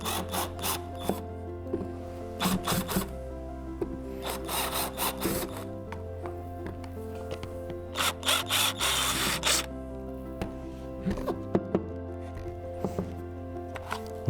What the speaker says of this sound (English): So turning your shell upside down, simply countersink these roughly 3mm deep.